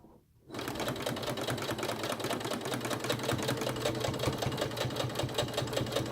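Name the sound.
sewing machine stitching backpack fabric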